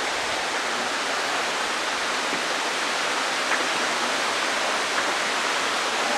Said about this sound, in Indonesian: Itu sungai, men.